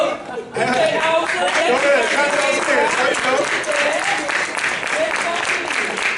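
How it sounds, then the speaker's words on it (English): A crowd applauds a football team steadily throughout, with cheering voices mixed into the continuous clapping. "And while we clapping, let's give a clap for the team."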